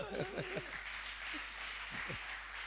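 A church congregation at a religious gathering applauds in a steady, fairly quiet wash of clapping. A voice speaks briefly over it.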